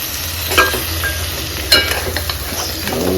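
Ridge gourd fries in spiced oil in a pan under a steady close sizzle, with two distinct stirring scrapes breaking through.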